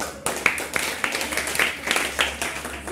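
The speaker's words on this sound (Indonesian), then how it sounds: "Tepuk tangannya." Short round of hand clapping in a lecture setting, a few rhythmic claps from a small group with a voice talking over them.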